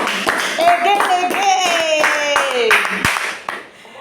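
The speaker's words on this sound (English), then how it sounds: "Clap for him" A language class claps for a student, a steady patter of hands running through most of the four seconds, close and fairly loud, with voices speaking and calling over it before it thins at the end.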